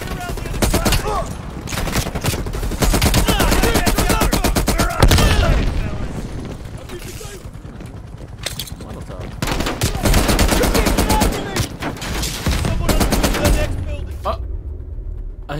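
Dense bursts of automatic gunfire and rapid shots from a Call of Duty: Black Ops Cold War mission near a gas station, loud and nearly continuous, mixed with game voices calling orders.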